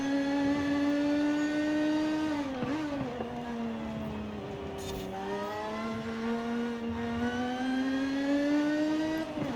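A new Lotus mid-engine car in a racing video game holds a steady, droning engine note that dips and rises gently as the car works through corners, loud and continuous throughout.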